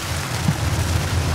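Heavy rain pours down in a steady, dense roar, loud and continuous with no pauses, with a faint low rumble underneath.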